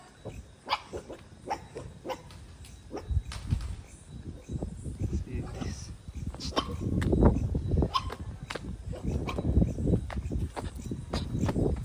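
Stray puppies in a city street give out scattered yelps and short barks, close by, with shuffling footsteps and rustling throughout; the activity grows busier and louder in the second half.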